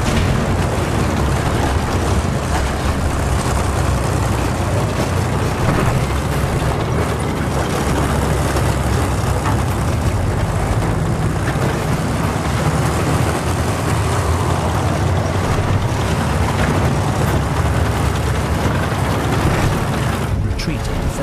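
Battlefield 1 tank combat under an artillery barrage: a dense, continuous roar of engine rumble and blasts fills the whole stretch, loud and unbroken, with no clear separate hits standing out.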